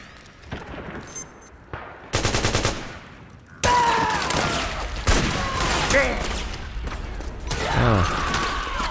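Gunfire in a Metal Gear Solid game, several loud bursts of automatic fire arriving in separate volleys with mechanical clatter between them, alongside game voices.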